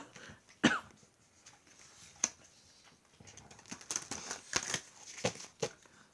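A person coughs several times in a quiet room, sharp separate bursts scattered irregularly with some throat clearing, close and moderately loud, with no speech.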